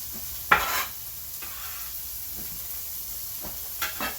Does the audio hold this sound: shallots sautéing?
yes